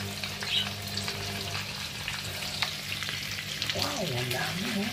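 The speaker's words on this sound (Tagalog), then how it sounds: "Lagayin natin dito sa ating gisa. Yan, ginigisa natin." Corned beef sautés in a pan with a steady close sizzle and frying crackle, broken by scraping stir sounds, and a faint voice briefly rises underneath.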